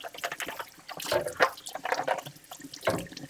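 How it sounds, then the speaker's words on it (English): Water rinsing over Bissell Crosswave HydroSteam cleaner parts, a close, quiet run of splashing and spattering bursts under a tap. "And then I just give everything a little rinse here."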